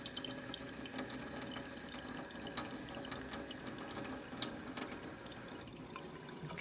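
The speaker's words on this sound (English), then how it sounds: "So let's go ahead and turn the water on and see what happens." Water runs and trickles steadily through a RODI filter into a bucket, a soft continuous flow with small drips and splashes, fairly quiet and close.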